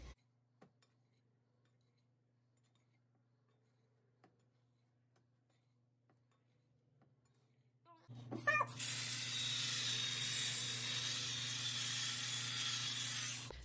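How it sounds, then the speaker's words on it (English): Salt ground onto food from a grinder in a home kitchen: after a long near-silent stretch, a loud, steady grinding rasp starts up close and runs without pause to the end. "And it may sound like a lot of salt"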